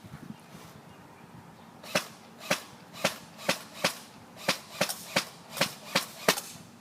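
Semi-automatic gun fitted with a red dot sight firing about eleven sharp, fairly even shots, spaced roughly half a second apart. Each shot is a crisp, clear crack over quiet background noise.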